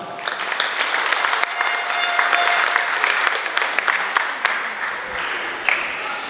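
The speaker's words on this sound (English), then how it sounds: "May we please give her a round of applause." A high school graduation crowd claps in steady, dense applause that fills the hall at a moderate distance, with a few louder claps and whoops near the end.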